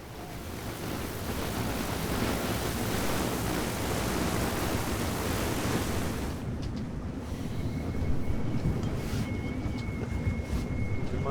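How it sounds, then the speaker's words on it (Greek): Strong wind roars steadily against the microphone at a stormy anchorage, a loud broadband rush that keeps building, with gusts easing slightly after a few seconds while a thin whine persists. "Πολύ αέρα, όλο και δυναμώνει ρε"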